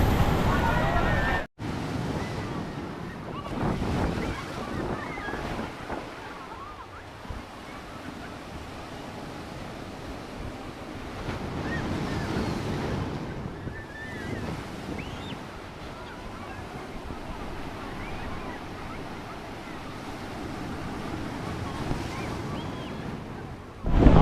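Steady surf rolls onto New Digha sea beach under buffeting wind on the microphone, a continuous wash of waves through the whole stretch with faint voices mixed in.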